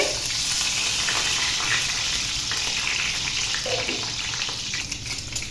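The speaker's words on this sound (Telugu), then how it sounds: "ఇప్పుడు ఇదే ఆయిల్లో ఎగ్స్ వేసుకోవాలి. ఎగ్స్ కూడా వేసుకొని బాగా వేయించుకోవాలండి." Eggs fry in oil in a pan left from cooking okra, producing a loud, steady, close sizzle with a faint bubbling texture and a few light stirring movements.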